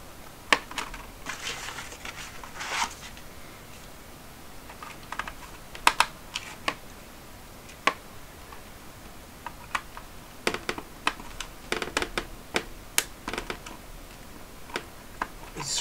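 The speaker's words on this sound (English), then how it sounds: "These screws are in pretty tight." Tight screws are worked loose from a Casio fx-7400G Plus graphing calculator with a small screwdriver, giving sparse, sharp ticks and clicks over a quiet background hiss, close up and with no voices.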